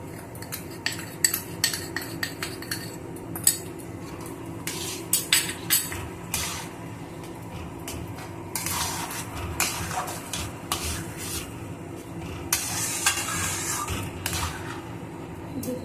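Semolina halwa with cardamom stirred in a pan: repeated scraping and clinking of a spoon against metal over a constant low sizzle, close and irregular throughout.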